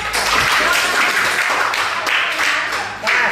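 Applause from a class during an Indonesian lesson on Islamic marriage law, a dense, steady patter of many hands clapping close by for a few seconds, with a brief dip and swell near the end.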